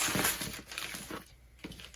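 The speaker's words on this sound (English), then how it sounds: "So you're going to fold your pattern paper like this." Sheets of pattern paper being folded for drafting a drape top or dress sleeve, with soft close crinkling and rustling in short bursts, then a brief pause before one more rustle.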